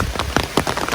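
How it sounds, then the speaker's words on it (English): Heavy rain pours outdoors around a bivy-style tent, a dense, constant patter with a few sharper drops hitting the surface, heard alone without talk. "Oh, it is pouring, guys."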